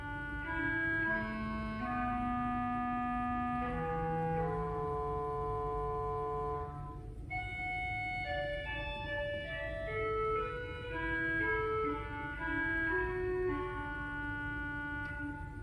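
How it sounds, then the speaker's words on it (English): A 1915 Austin pipe organ sounds its 8-foot clarinet stop on the choir division, a reedy, woody melody of sustained notes with some chords, played alone at moderate volume in a reverberant hall. "A clarinet at 8 foot."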